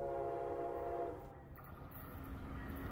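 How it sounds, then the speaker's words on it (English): Brightline BLF 750, a two-car test train built from part of the Bright Pink 2 set, rumbles steadily across the Eau Gallie River bridge in Melbourne, a continuous near, loud rolling roar with a tonal hum throughout. "BLF 750, which is a 2-car train made from part of Bright Pink 2"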